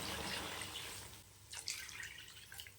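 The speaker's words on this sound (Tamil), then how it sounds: "இப்போ தண்ணி சேர்த்துக்கலாம்" Water is poured into a pot of mutton varuval being cooked, a broad splashing wash that is strongest at the start, then fades, with a few brighter splashes and drips near the end.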